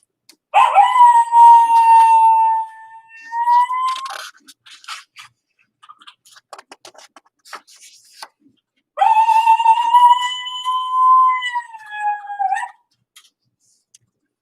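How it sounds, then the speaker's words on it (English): A coyote howls in the desert: two long, clear, wavering howls that rise and fall, separated by a pause with faint yips and scratchy clicks, distinct against a quiet background. "the howling of a coyote from far across the desert"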